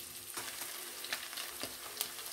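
Beef pieces sautéing in a pan after their liquid has cooked off for a Turkish beef sauté, giving a steady sizzle with a few soft stirring scrapes, close and moderately quiet.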